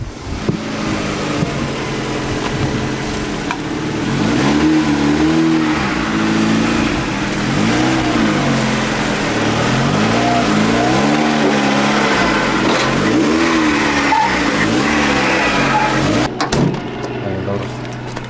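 A turbocharged 1.8-litre Mazda MX-5 NB with a TD04 turbo revs and accelerates repeatedly, its pitch rising and falling through the gears, loud and close with a steady droning roar underneath.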